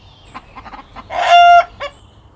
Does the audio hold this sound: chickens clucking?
yes